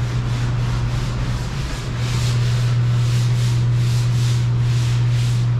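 Small car parts are sanded by hand in rhythmic back-and-forth strokes, close and loud, over a constant steady hum in the workshop.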